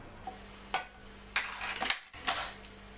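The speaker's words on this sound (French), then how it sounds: "On va commencer par installer le batteur." Beater fitted onto a Cooking Chef Gourmet kitchen mixer: a few sharp metallic clicks and clunks spaced over about three seconds, close and moderately loud, with no voices.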